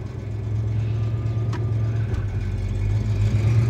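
A classic car's engine revs as it pulls away, a steady close-up rumble of a throaty motor that gradually grows louder. No talking.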